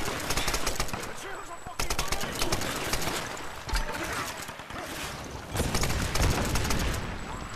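Sustained automatic gunfire from a Tomb Raider action sequence, loud rattling bursts that keep going with brief breaks, close and dense, with a voice talking over parts of it.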